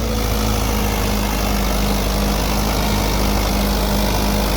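A Mahindra 575 XP Plus tractor engine runs at close range, a loud, steady diesel drone with a heavy low rumble that never lets up, and no talk.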